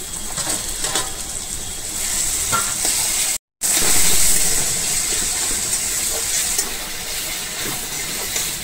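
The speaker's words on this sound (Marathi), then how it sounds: "चला तर आता आपल्याला टोमॅटो टाकून घ्यायचे आहे।" Chopped tomatoes sizzling and frying in a hot pan for paneer bhurji, a loud continuous hiss with occasional stirring scrapes and a brief cut to silence partway through.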